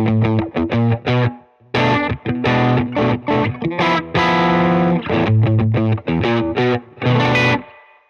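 A heavily fuzzed electric guitar through a Greer Amps Soul Thrust Fuzz Unit into a Benson Amps Monarch Reverb plays loud, chunky distorted chords and riffs in short bursts with brief gaps, saturated and buzzing.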